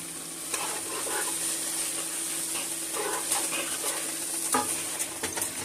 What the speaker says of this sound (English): That's the water boiling.